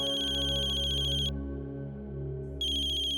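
A phone ringtone plays in repeated high electronic bursts, pausing briefly before resuming, over a steady low hum.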